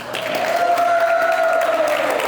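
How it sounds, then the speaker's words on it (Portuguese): Audience applause at a church gathering: a steady wash of clapping from a crowd, fairly close and even throughout, with a sustained sung or hummed tone running over it. "vamos dar uma salva de palmas para ele?"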